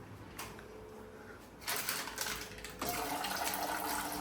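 Water pouring in a home kitchen, a steady close splashing stream that starts partway through and grows louder, continuing to the end without speech.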